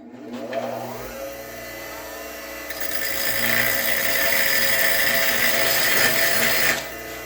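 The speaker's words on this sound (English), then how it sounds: "go over here to the grinder. We're going to grind that head down round until it fits in that hole" A bench grinder rounds off a bolt head spun in a drill, starting as a motor hum that swells into a loud, sustained abrasive metal-grinding whine, then cuts back near the end.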